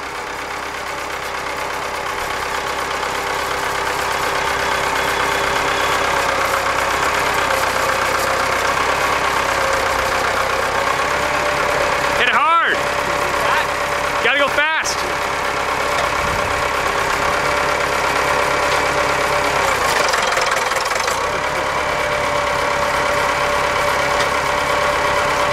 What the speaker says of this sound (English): So that's a Massey 265, and we're gonna back over it.